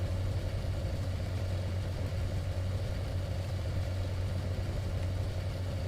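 Tank engine in the Sprocket tank design game running at high revs, a steady low droning hum with constant level and no speech.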